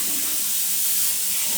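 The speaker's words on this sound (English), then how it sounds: "over to the cold tap for a good swill off and get rid of all that boiling water" A cold water tap runs steadily onto a pot being rinsed of boiling water during home beer kit brewing, a close, continuous broadband splashing hiss with no talk.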